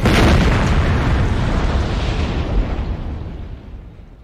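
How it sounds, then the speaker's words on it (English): A loud, booming explosion in the film American Psycho that hits at once and then rumbles and hisses away slowly over several seconds. "Big explosion, nice"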